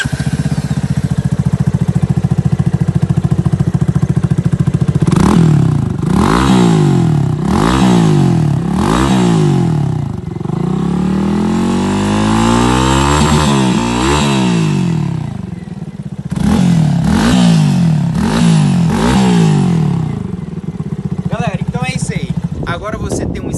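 A Yamaha Fazer 250 with a sporty stainless steel exhaust is revved repeatedly, with sharp rising and falling bursts between steady idling, loud and close throughout.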